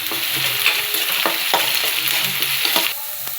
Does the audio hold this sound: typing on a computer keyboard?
no